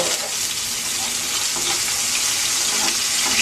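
Fish skin sears in a hot pan with a steady, loud, even sizzle that fills the whole moment without pause.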